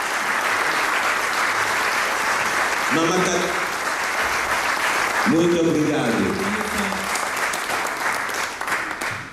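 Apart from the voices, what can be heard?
applause for the embassy staff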